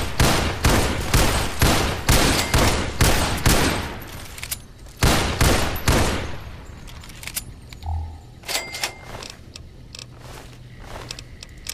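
Assault rifle gunfire in Fallout New Vegas, loud rapid bursts of shots crackling in dense volleys for about six seconds, then thinning into scattered quieter pops and clatter.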